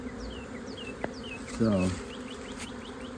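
Honey bees buzz around brood frames taken from four different hives while a cell builder is assembled, a steady close hum with a brief louder buzz as one bee passes near, under a single spoken word.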